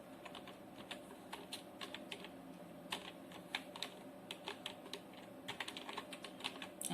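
Quiet, steady typing on a computer keyboard: irregular runs of light key clicks with occasional louder taps, close and alone with no talk.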